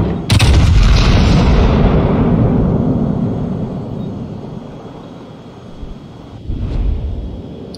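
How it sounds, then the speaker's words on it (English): Warship guns fire shells in the World of Warships video game: a single heavy, loud boom, followed by a long rumbling decay and a second, smaller thump near the end. "Shells go out."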